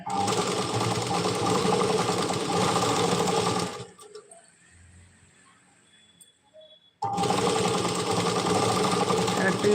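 A sewing machine stitches the canvas-lined hem of a Punjabi dress pyjama, running in two loud, steady whirring bursts separated by a quiet pause of about three seconds.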